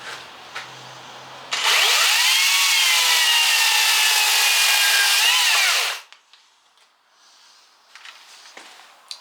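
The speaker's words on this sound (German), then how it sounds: "Ich wette, der Schnitt war auch schneller." A Stihl-type chainsaw in boosted high-torque mode cuts through wood, a loud, steady whining roar lasting about four seconds that rises in pitch near the end before stopping, with quieter handling noises around it.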